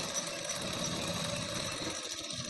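A sewing machine runs steadily while stitching a blouse, its close, even mechanical whir continuing without pause.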